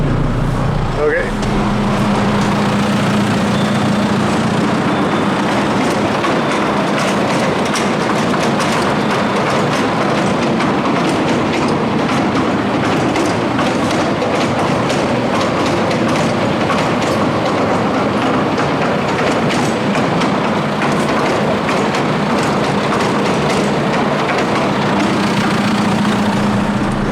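A Howard rotovator engine runs steadily and loudly nearby, a continuous rumbling drone with a rattling, clattering texture that holds unchanged throughout.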